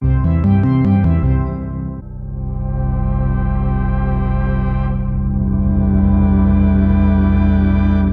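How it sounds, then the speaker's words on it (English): A rich, sustained wavetable synthesizer tone, processed with sound design effects, with dense harmonics, opening with a short rhythmic pulsing pattern before settling into a thick, evolving ambient drone. "if we take the same exact wavetable and waveform and play it in our other layers"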